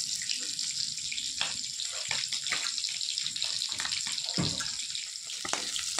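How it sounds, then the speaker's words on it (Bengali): Potatoes and eggplants being washed under running tap water in a kitchen sink, a steady close splashing flow with brief bumps and clatters, no talking. "আলু বেগুনগুলো একটু ধুয়ে নেবো।"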